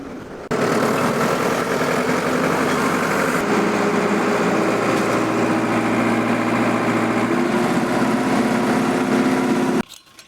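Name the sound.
Allis Chalmers 175 diesel tractor engine while plowing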